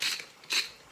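Two quick twists of a salt grinder over fried rice, each a brief dry crunching rasp, close and fairly quiet with a short gap between them.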